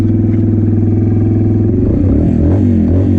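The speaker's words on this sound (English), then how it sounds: "Of course we use the throttle." A motorcycle engine revs under the throttle during a maintenance session, a loud, close, steady mechanical drone that climbs and wavers as the throttle opens in the second half, with no talking.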